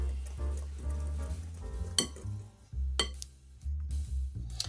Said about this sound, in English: all we're going to do is whisk that together until everything is well combined